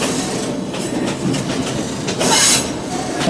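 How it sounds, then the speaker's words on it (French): Steady rumble and rattle of a moving train heard from inside a standard-class passenger car on a line out of Yangon, Myanmar, with continuous wheel and carriage noise that swells briefly near the end. "dans le train qui va nous conduire depuis Callao jusqu'à Chuen Laoung."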